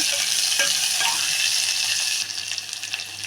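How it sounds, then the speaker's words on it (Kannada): Onion and garlic sizzle in hot oil in a pan as tempering for North Karnataka palak kara kadubu, a loud, close, continuous hiss that eases slightly toward the end, with no voices. "ನಾನು ಹಿಂಗೆ ಒಗ್ಗರಣೆ ಹಾಕ್ತಾಯಿದ್ದೀನಿ"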